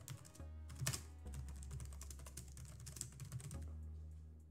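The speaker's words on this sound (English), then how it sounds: "so we can just type in here." Fingers type rapidly on a computer keyboard, producing a steady stream of close, light key clicks over a low background hum, with no talking.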